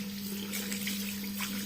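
Running water from a tap splashes steadily while facial cleanser is rinsed off the face, a continuous close wash with a faint underlying hum and no speech.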